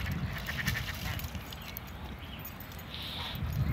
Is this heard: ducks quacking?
yes